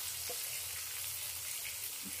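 Tomatoes with turmeric and salt sizzle softly in a pan while being stirred, a faint, steady frying hiss over two seconds.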